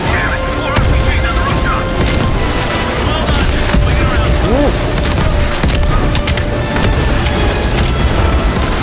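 Loud, dense blasts and crackling destruction fill a Call of Duty: Black Ops Cold War match, a continuous close-up din with bursts layered over it and voices faintly mixed in.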